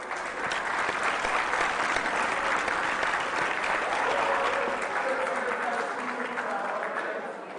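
Audience at the Senior Sharks Quiz season 6 grand finale applauding, a dense sustained wash of clapping from a crowd that holds steady and then begins to fade at the end.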